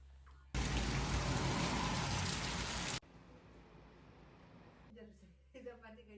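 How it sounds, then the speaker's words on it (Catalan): Rain falling in the Val d'Aran, a loud close hiss of heavy rain for a few seconds that cuts to a quieter background patter, followed by someone speaking. "a més que està plovent"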